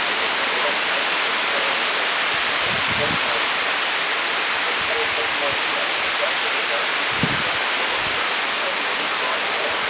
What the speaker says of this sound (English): Is this a big downburst or is this a downburst or a downpour?